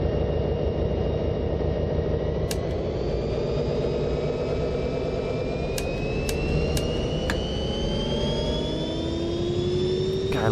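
Steady whining turbine-like engine drone from vehicles in a Train Simulator game, a continuous loud hum with slowly rising tones and a few brief high clicks, no voices.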